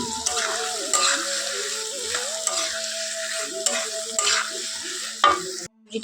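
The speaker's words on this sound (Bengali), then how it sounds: "দেখো তেলের মধ্যে ফেলে দিয়ে দিয়েছি পেঁয়াজ কুচি" Chopped onion and semolina fry in oil in a pan, giving a close, steady sizzle with repeated scraping stir strokes. A faint tonal hum runs underneath, and the sound cuts off abruptly near the end.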